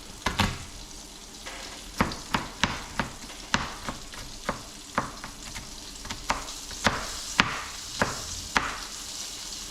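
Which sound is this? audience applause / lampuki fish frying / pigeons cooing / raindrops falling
lampuki fish frying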